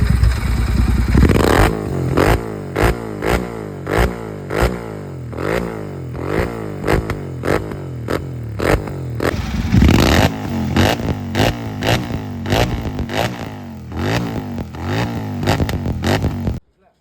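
A Royal Enfield GT650 fitted with a P102 full-system exhaust revs repeatedly in a loud, close series of sharp throttle blips that rise and fall in quick succession, with people talking over the engine.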